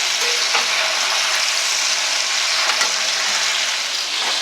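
Chunks of beef chuck sear in a hot pan with a steady, loud, continuous sizzle and spitting fat throughout, no talking.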